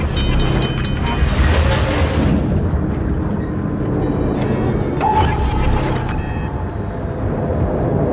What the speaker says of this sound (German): Wasser dringt schnell ein!